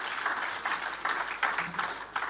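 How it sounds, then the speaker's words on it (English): Audience applause at a live broadcast event, a soft, somewhat distant patter of clapping in uneven bursts, fairly quiet throughout. "So give yourselves a big round of applause."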